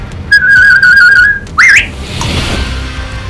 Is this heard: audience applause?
no